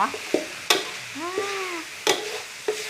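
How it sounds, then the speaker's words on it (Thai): Minced pork is stir-fried until dry, with sharp spatula scrapes and knocks against the pan at irregular intervals over a low sizzle, and a brief vocal sound in between. "ผัดให้มัน แห้งๆเนี่ย"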